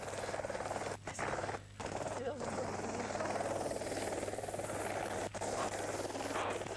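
A helicopter flying over New Caledonia in 1983 keeps up a loud, steady rotor drone and whine throughout, with a voice talking over the engine noise.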